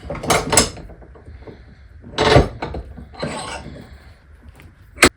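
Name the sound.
clamping a burnisher in a bench vise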